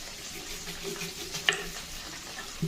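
Okra frying in a pan for bendekayi palya gives a low, even sizzle with one sharp utensil tap midway and a small knock at the end, no voices.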